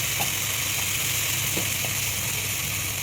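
Half a spoon of mustard seeds sizzling in hot oil in a kadai for bagara, a steady dense crackling hiss with a few faint pops, close and continuous with no talk.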